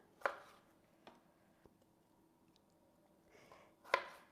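Knife chopping frozen cherries on a board: a few sharp, separate cuts spaced irregularly, with a louder crunchy chop at the start and another at the end, faint ticks between, quiet and close.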